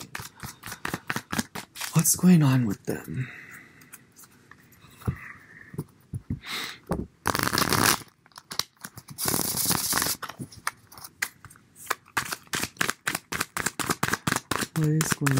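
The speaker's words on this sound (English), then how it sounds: "Shuffle the cards a bit." Tarot cards are shuffled in rapid papery riffles and flicks, close and crisp, repeated in bursts over about fifteen seconds between stretches of someone talking.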